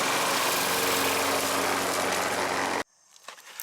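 A self-propelled lawn mower with worn wheels runs at a steady, loud engine drone close by, then cuts off abruptly, leaving a few faint clicks and rustles.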